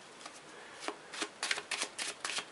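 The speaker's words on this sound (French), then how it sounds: "Le jeu est mélangé." A deck of playing cards being shuffled up close, with a run of crisp riffling bursts that quicken toward the end and no talking.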